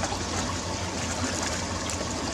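Water flowing through gravel in an aquaponic grow bed, a steady, dense trickling wash with no breaks, close and fairly loud throughout.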